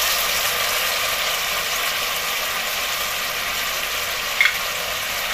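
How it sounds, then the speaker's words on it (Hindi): Steady, loud frying hiss from mutton in a hot pan, continuous throughout, with a couple of faint clicks near the end. "अब यहाँ पे मैंने मटन डाल दी, इसको हम लोग भूनेंगे।"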